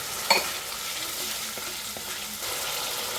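Onion and tomato paste with dry chilli powder sautéing in a pan, a continuous close sizzle with a brief clink of a spoon near the start and soft stirring scrapes, no voices.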